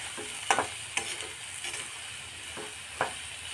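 Cauliflower florets coated in gram flour fry in oil with a continuous bubbling sizzle. A few distinct clinks and scrapes from stirring sound up close.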